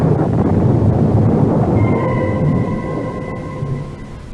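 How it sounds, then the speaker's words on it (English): A storm sound effect from a radio drama: a loud, continuous rumble of thunder that slowly fades and leaves a faint high whine in the background. "But again the clouds are gathering. The storm is at my heels."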